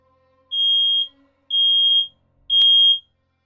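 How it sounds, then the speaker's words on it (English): An alarm sounds three evenly spaced, loud, high-pitched beeps, each about half a second long, alone against silence. "I don't know what that alarm was."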